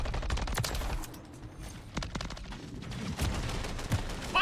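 Rapid pistol gunfire in Modern Warfare III, a series of sharp broadband shots spread across the clip over dense background game noise, loud and close, with no talking.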